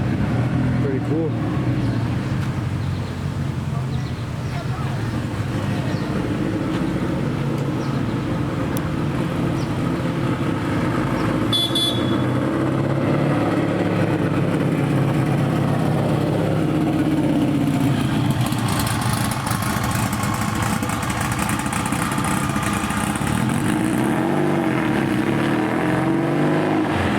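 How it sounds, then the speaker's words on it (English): Car driving past at an evening car show, a steady engine rumble and road noise that swells and fades, heard under ongoing talk and crowd noise. "That was a nice drive by that one."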